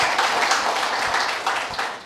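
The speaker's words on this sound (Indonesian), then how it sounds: "boleh tepuk tangan yang paling meriah." An audience applauds at the opening ceremony of the PBC Indonesia International Open, a faint, steady patter of many hands clapping in a large hall for about two seconds.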